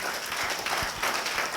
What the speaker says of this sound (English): I want a big round of applause for this